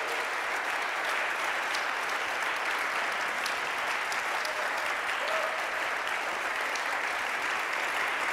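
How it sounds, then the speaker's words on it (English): An audience at a student-voice event claps in one sustained, even round of applause, dense and steady throughout with no speech over it. "If we can give them one more round of applause for being incredible"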